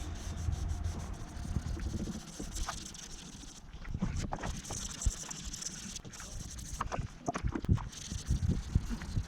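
Scratched plastic lens rubbed with 600-grit sandpaper, giving soft, close, irregular scratchy strokes with brief pauses between passes.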